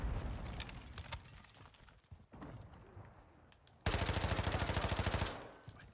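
Rapid automatic gunfire in a Call of Duty MW3 multiplayer match, a loud sustained burst of evenly spaced shots following quieter scattered firing and game noise.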